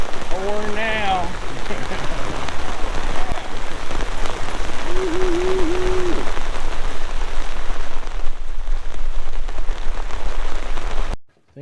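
Heavy rain pours steadily onto a roof and surrounding surfaces during a fishing outing, a loud continuous wash throughout, with brief voices talking over it near the start and middle.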